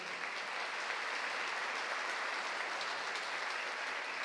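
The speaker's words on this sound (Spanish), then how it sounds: "la vamos a recibir con un aplauso bien," Dense, steady applause from a large crowd, sustained evenly throughout with no pauses.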